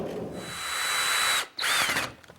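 A drill drives 1 5/8-inch screws into scrap 3/4-inch plywood for a ladder frame, a close, whining motor run that rises, cuts out briefly, then spins again before fading.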